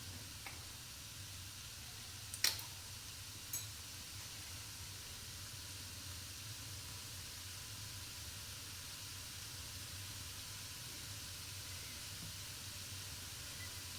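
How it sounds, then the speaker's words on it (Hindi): Vegetables sauté in a pan for Chinese vegetable rice, giving a faint, steady sizzling hiss throughout, with a couple of brief clicks early on and no one speaking. "सब्ज़ी को हम सोते करेंगे"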